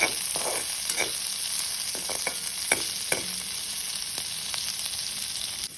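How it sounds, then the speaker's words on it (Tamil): Chopped onions with fennel seeds fry in a pan, a steady soft sizzle broken by several sharp stirring scrapes and taps of a spoon. "வெட்டி வச்சுருக்கிற வெங்காயத்தை வந்து போட்டுக்கொள்வோம்"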